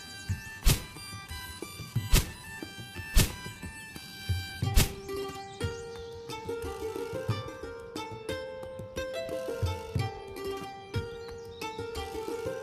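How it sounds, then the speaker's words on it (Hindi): Sharp wooden thunks of an axe striking a tree, several spaced hits, with birds chirping faintly in the background. "मेरे हिसाब से यही पेड़ ठीक रहेगा, चलो इसे ही काट लेता हूँ।"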